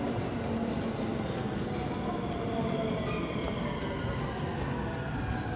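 A Shinkaisoku rapid commuter train arrives at a station platform late at night, giving a steady rumble and rail noise under a repeating high electronic tone.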